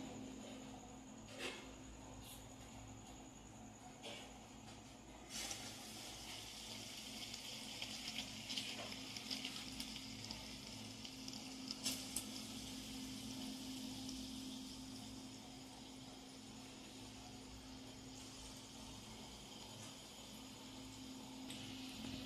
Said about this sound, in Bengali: দেখুন বন্ধুরা, ফুরুলিগুলো ভাজা হচ্ছে।